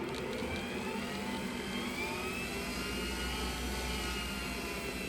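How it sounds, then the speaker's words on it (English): A sharpening machine hums steadily at speed while salon hair shears with a convex edge are sharpened, a continuous smooth whirring drone with a faint high grinding hiss throughout. "Usually I listen for the sound of the machine at the RPM that I like"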